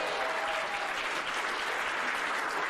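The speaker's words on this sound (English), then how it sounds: "you can give that a round of applause if you want to" Audience applause at a wrestling expo podcast event, steady dense clapping sustained throughout at close range.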